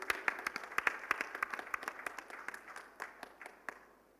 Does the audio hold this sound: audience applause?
yes